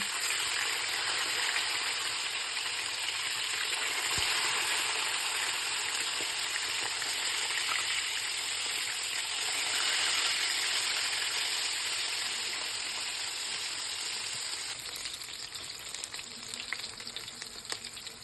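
Pieces of catla fish fry in hot oil with a loud, steady sizzle that holds close and constant for the whole stretch, no voices.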